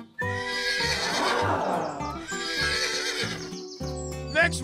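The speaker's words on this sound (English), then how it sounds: "Imagine what a real horse would do." A horse gives a loud, close whinny that rises and falls, followed by a second neigh, while hooves clip-clop beneath it in short bursts. No one talks.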